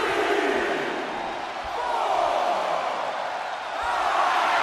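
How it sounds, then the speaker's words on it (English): A large wrestling arena crowd roars and cheers steadily throughout during The Rock vs Cody Rhodes match, a loud continuous mass of voices that swells and dips slightly. "Cody Rhodes rallying up the crowd like only a Rhodes can."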